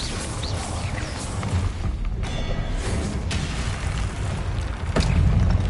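Incendio fire spells cast in Hogwarts Legacy burst as booming, crackling blasts amid ongoing combat noise, with a heavier low thump near the end.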